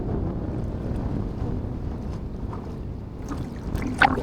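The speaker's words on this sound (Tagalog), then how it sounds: "Lakas ng hangin." Steady, strong wind buffets the microphone with a constant low roar, with faint distant voices near the end.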